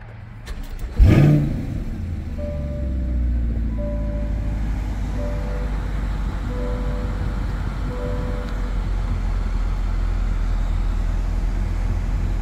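A 2021 Chevrolet Corvette Stingray 2LT with a 6.2 liter V8 fires up from a push-button start: a sharp starter crank and loud bark, then a steady, deep, rumbling idle that continues alone close by.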